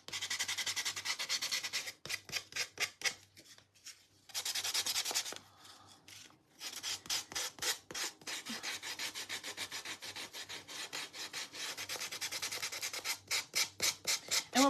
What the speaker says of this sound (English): I'm just going to use my little gator tool to sand off the little edges where I clearly made it just a little bit too big